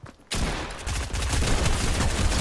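Sustained automatic gunfire in Fortnite, a dense loud burst of rapid shots starting abruptly after a quiet moment and continuing without a break, close and intense.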